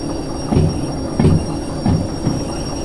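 A heavy loaded train in the Derail Valley game slowing under its independent brake, with a steady rumbling roll and three brief louder surges of wheel and brake noise at regular intervals.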